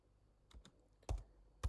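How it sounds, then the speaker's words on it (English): Keys tapped on a computer keyboard, a few quiet, scattered clicks and a couple of sharper presses in a still room while a DC voltage source is entered in circuit design software. "I'm just going to type here on the environment"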